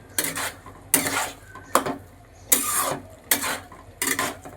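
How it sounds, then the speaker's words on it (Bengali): Bottle gourd curry stirred in a pan after sugar goes in: six rhythmic bursts of a spoon scraping and clinking against the metal pan, close and fairly loud, with faint sizzling between strokes. "এবার আবার একটুখানি নাড়াচাড়া করে নিচ্ছি।"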